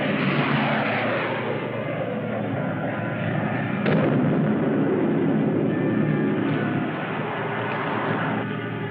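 Dense, continuous roar of heavy gunfire and blasts aimed at a spaceship in a 1954 science-fiction film, loud and sustained with sharper bursts around the middle, no voices over it.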